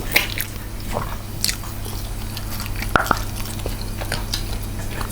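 Someone bites into and chews homemade chicken kebab made without skewers, giving close, moist squishing chews with a few sharper crunchy bites scattered through, and no talking.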